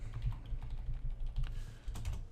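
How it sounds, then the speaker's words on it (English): Fingers tap steadily across a computer keyboard, fast clicking keystrokes close by and fairly quiet, with no talk over them. "let's type hello first"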